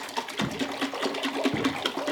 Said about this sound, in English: Sometimes you have to shake a little bit more to make sure that the honey gets mixed in well